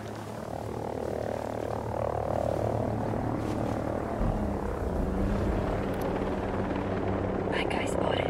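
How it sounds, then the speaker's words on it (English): An enemy helicopter in the video game Ghost Recon Breakpoint drones steadily throughout, a continuous rotor rumble and hum under game ambience with brief voice chatter. "Bad guy's got a chopper up."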